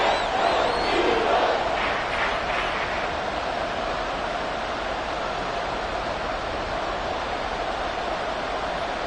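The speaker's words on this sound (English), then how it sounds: "This crowd doing all they can." A football stadium crowd roars with a steady, broad wash of cheering and noise, loudest at the start, with a voice briefly over it.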